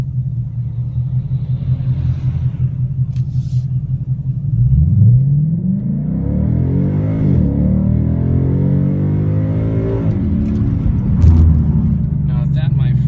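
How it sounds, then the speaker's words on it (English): A 2016 Ford Mustang 5.0 V8 with a DRIFT Xaust aftermarket exhaust idles with a deep, close burble, then is revved twice, the engine note sweeping up and falling back to a throbbing idle. "Now that, my friend, is the sound of a muscle car."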